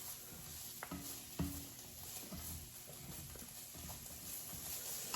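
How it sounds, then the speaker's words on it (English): Eggplant, tomato and garlic stirred in a pan with a spatula, with soft scraping and a few light knocks over a low sizzle, close and fairly quiet, no talking. "Get my spatula here to give it a quick stir around"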